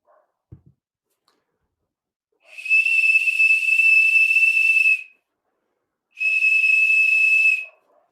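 Two long, shrill, steady whistle blasts from a small ceramic whistle bottle, each about two seconds, separated by a pause, breathy and piercing, with a faint click before the first.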